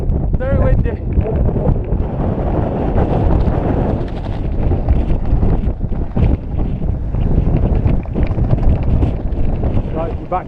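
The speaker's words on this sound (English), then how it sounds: "Windy! Very windy." Strong wind buffets the microphone outdoors on a fell walk in the Mosedale Horseshoe, a loud, constant low roar filling the whole stretch with people talking underneath.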